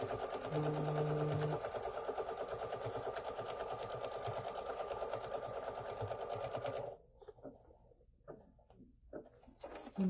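Sewing machine running a continuous tack-down stitch on quilt fabric, a steady close mechanical whir for about seven seconds that then stops, leaving faint handling sounds.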